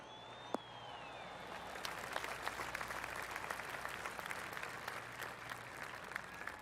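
Polite golf clap from spectators after a shot on a hole with water beside a narrow green: scattered, light handclaps spread evenly, faint and distant, following a single sharp click.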